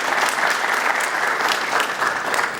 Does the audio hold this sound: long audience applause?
yes